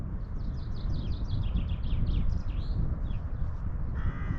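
Several crows caw repeatedly at a distance over fields between Breda and Tilburg, over a steady low rumble of wind and major-highway traffic, the harsh calls coming in a quick series.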